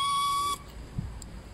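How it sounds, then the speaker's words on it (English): A short, steady whistle from Thomas the Tank Engine sounds oddly for about half a second, then cuts off into quiet room tone. "Percy tells Thomas his whistle sounded strange"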